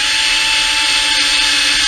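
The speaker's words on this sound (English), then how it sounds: "I'm gonna start drilling them." A power drill bores through a plastic lawnmower hood at slow speed, giving a loud, steady motor whine with an unbroken buzzing tone throughout, close up and with no talk.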